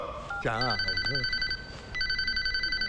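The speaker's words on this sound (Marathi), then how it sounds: "अरे हा फोन सारखा वाजतोय" A telephone rings with a bright electronic trill, pausing briefly before ringing again, while a voice speaks over the start.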